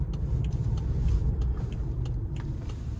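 Car on a test drive at an ADESA auto auction, its engine rumbling steadily and loud, with road noise throughout and no clear gear-change breaks.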